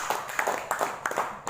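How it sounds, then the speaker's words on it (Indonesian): Scattered audience clapping for Gabriel Sitanggang, a fighter from Pangururan, with a handful of loose, uneven claps over a soft background rather than sustained applause. "Ya tepuk tangan buat Gabriel dulu."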